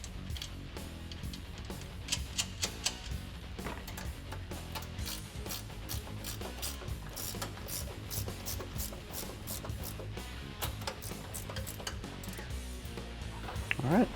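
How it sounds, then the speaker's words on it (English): A ratcheting wrench with a 15 socket snugs the strut nuts on a 2012-2018 Ram 1500 leveling strut, producing a fast, continuous clicking pawl chatter, close and steady for the whole stretch with a few louder clicks near the end. "I'm gonna use a ratcheting wrench and you'll finish the job"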